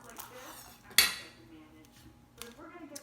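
A knife chops down through an onion on a cutting board with a single sharp, close knock, followed by quieter handling noises and a soft voice.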